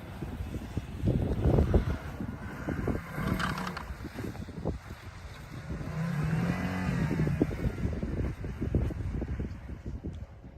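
A 2021 Jeep Grand Cherokee L drives on icy snow, its engine a low rumble that rises and falls along with tire crunch and wind buffeting on the mic, and one stretch where the engine pitch swells and eases.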